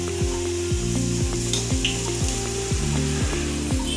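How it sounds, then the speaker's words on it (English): Bhaturas deep-fry in hot oil in a home kitchen, giving a steady, close, dense sizzle. Loud, rhythmic background music plays over the frying throughout. "So now my mom is going to fry the bhaturas."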